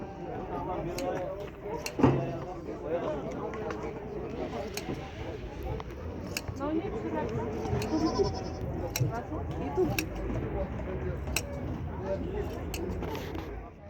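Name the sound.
goats bleating at a livestock market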